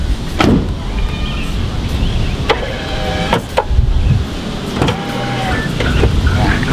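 Electric side step on a Jeep Wrangler JK, a short whirring motor retracting the step as the door is shut, with sharp door clunks and clicks in a close, indoor-sounding space.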